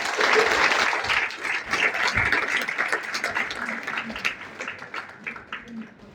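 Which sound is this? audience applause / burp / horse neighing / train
audience applause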